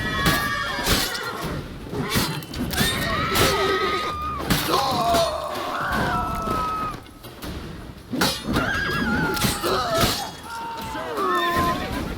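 A horse whinnies several times amid a chaotic fight in the video game The Witcher 3, with shouting voices, crashes and thuds around it.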